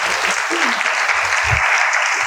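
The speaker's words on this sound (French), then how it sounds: "Applaudissez, s'il vous plaît, Nicolas." A conference audience at a talk on entrepreneurship and mental health breaks into steady, full applause that fills the room evenly for its whole length, with no voice rising above it.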